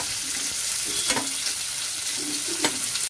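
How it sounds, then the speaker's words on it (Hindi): Onions lightly frying in a pan for dal makhani, a steady close sizzle with occasional stirring scrapes of a spoon, heard alone. "हल्का सा फ्राई करेंगे इसको"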